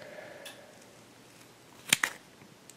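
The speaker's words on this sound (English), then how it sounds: "so that way we have a line to cut with scissors" Two quick snips of scissors cutting paper close by, crisp and brief, around a quiet room tone with no talking.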